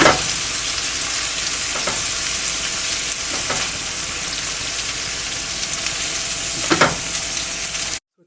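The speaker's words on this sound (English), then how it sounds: "we have been sauteing our garlic and ginger, and we're going to just put in our turmeric and red chili powder" Garlic, ginger, turmeric and red chili powder sauté in a pan with a constant close sizzle, punctuated by a few brisk stirring scrapes before the sound cuts off abruptly; nobody speaks.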